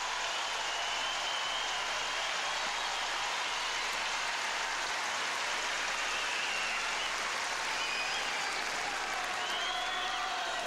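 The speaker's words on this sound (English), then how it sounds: "Listen to the crowd giving Agassi this ovation." A tennis crowd at the Australian Open gives Andre Agassi a sustained ovation, dense clapping that rolls on steadily like heavy rain, loud and continuous, with faint whistles and cheers rising near the end.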